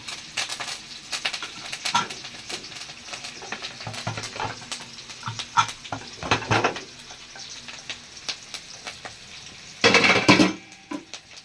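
Curry leaves and chana dal fry in oil with a crackling sizzle, broken by stirring clatter and spoon taps on the pan, ending in a loud burst of spitting near the end with no talking.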